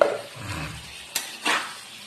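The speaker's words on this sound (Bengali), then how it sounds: "এবার আমি ডিমগুলোকে এর মধ্যে সব দিয়ে দিচ্ছি, দিয়ে হালকাভাবে নেড়ে নেবো" Eggs go into a pan of egg curry and are stirred gently, a soft scraping of a spoon against the pan with faint sizzling and a couple of brief clinks, quiet and close.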